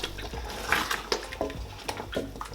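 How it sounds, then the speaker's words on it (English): Water added to a simmering pot of Nigerian Ofe Nsala soup, a close series of uneven splashes and pours with light clinks against the pot. "I just want to add a little bit of water"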